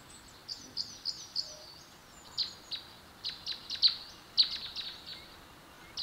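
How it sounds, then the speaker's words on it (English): Small birds chirp near a garden bird feeder in a string of short, high tweets, some overlapping, faint to moderately clear against a quiet outdoor hush, with no talking. "We're quiet. We can hear the birds."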